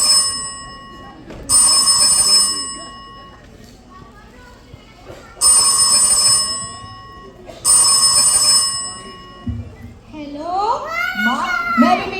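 Telephone rings on a stage at a school annual function as a mother calls her son, three loud bursts of ringing separated by pauses, followed by children's voices and chatter.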